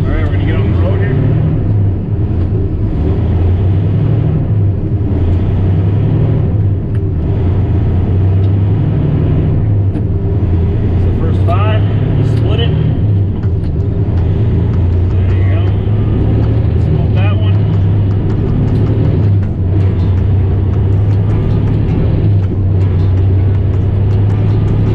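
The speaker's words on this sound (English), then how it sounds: "So this is a 13-speed truck. You want to see me shift through all the gears?" A 13-speed truck's diesel engine drones loudly from the cab while driving on back roads, rising and falling in pitch as it works through the gears, with someone talking over it.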